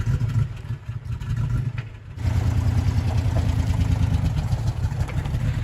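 A four-wheel drive vehicle's engine runs steadily with a low, throbbing rumble that swells louder partway through as it revs up, heard close and continuous with no talk.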